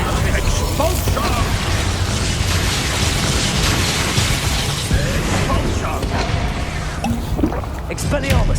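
Explosive Expulso spell blasts amid Hogwarts Legacy combat, a dense, loud stream of booms, bursts and clattering mechanical effects throughout, with voices speaking over the fight.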